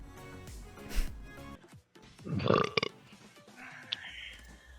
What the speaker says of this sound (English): Ooh, burp, here it comes.